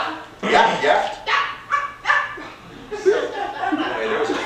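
A human voice imitates a small toy dog yapping, with a series of short, bright yips and barks in quick bursts, close up and fairly loud, plus some chuckling mixed in.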